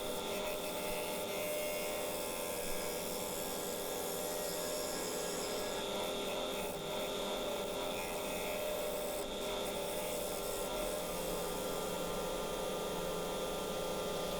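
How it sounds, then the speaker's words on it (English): Steady, continuous abrasive rubbing with a constant whirring hum as a hollowed bog oak bowl is sanded on a wood lathe, with no pauses and no voices. "we are now sanding up"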